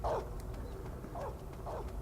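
A dog in Metal Gear Solid 3 gives three short barks, spaced apart and moderately close, over a low steady background rumble.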